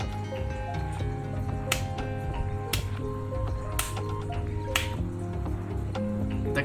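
Sharp clap hits punctuate a steady rhythm game song, landing at spaced intervals over the sustained musical backing, with no talking.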